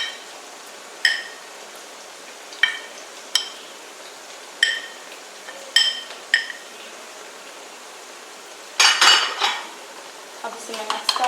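Spoon stirring spices and red chilli into yogurt in a bowl, with a series of light metallic clinks against the bowl at spaced intervals, then a brief busier scraping burst near the end.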